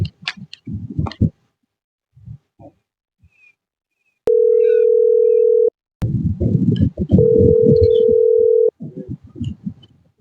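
Two long, steady electronic telephone call tones ring out loud and alone during a phone call in a village comedy sketch, with voices talking before, between and after them.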